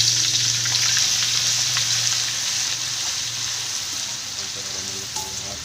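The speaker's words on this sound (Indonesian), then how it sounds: "Tumis bawang putih sampai harum." Garlic sautéing in hot oil for sate padang gives a loud, continuous, close sizzle that holds steady throughout with no speech.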